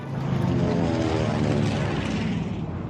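A Pan American Clipper propeller airliner flies over mountains in the Pacific war era, its engines giving a loud, steady droning hum with layered harmonics that holds without a break from start to finish, with no voices.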